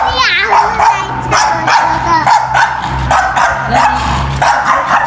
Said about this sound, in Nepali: यो कुकुरलाई दिन सकिन्छ एकदम राम्रो छ आए कुकुर आए